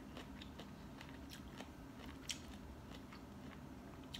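Teeth bite and tear at a package of dried fish-kidney chili paste, giving soft crinkling crunches and a sharp snap near the middle, quiet and close with no talk.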